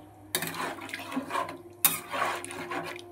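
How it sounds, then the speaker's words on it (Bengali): A spoon stirs yam and potato curry in water in a pan, making two scraping, sloshing strokes close up. "নেড়ে চেড়ে দিচ্ছি।"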